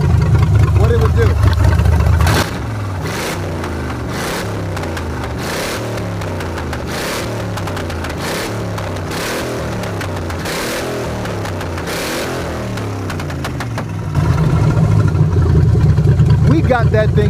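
A Ford Maverick with an EFI engine loud and close, a steady low rumble with rhythmic pulsing through the middle that swells to a heavier roar at the start and end, with no voices.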